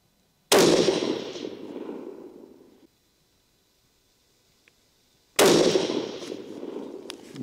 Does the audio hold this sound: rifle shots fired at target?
yes